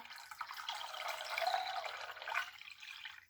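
Water pours steadily into a container as a liter is added during a math volume demonstration, a continuous close splashing fill lasting a few seconds with no talk.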